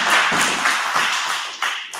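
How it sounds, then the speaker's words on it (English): Dense applause from a live audience at a spoken-word poetry performance, a steady close wash of many hands clapping for two seconds with no voices. "One more round of applause."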